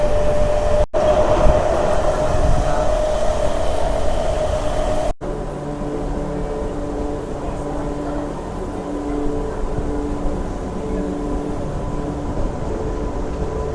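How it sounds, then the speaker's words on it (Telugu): Renigunta–Kadapa MEMU passenger train running through rainy hills, a steady loud rumble and drone heard from inside the coach, with two brief dropouts near the start. "మన ట్రైన్ అయితే నల్లమల ఫాస్ట్ అయితే కొంచెం అయితే ఎంటర్ అవుతుంది."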